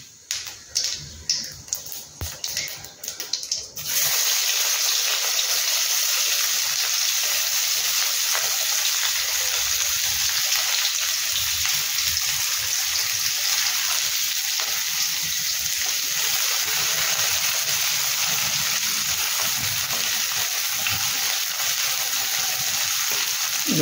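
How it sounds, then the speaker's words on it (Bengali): Chopped onions hit hot oil with cumin seeds and break into a loud, continuous sizzle that runs steadily for the rest of the stretch, after a few seconds of lighter clattering and quieter frying. "জিরে ফোড়ন দিয়ে এবার পেঁয়াজ কুচি দেবো।"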